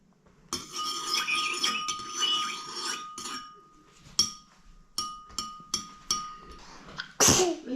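A single sharp sneeze bursts out near the end, following a stretch of clinking dishes, glassware and tapping at a home meal table, with some faint speech in the background.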